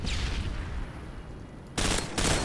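A wall-bang gunshot in Call of Duty MW2 lands as loud, dense bursts of gunfire toward the end, following a stretch of rumbling game noise.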